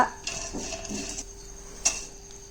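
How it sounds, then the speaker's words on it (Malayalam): Whole spices such as cardamom, star anise and cinnamon dropped into a hot pan, a few light clinks and rattles with a faint sizzle and a sharper tick near the end, no talking. "പാൻ നന്നായിട്ട് ചൂടായതിന് ശേഷം ഏലക്ക ഇടാം അതൊന്ന് ചെറുതായി ചൂടായി വരുമ്പോൾ തക്കോല ഇടാം പിന്നെ കറുവാപ്പട്ട"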